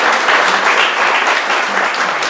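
An audience applauds at the launch of the book "Santiago 1980-1983" by Mauricio Valenzuela Hurtado. The clapping is dense, steady and close, holding at full strength for the whole stretch.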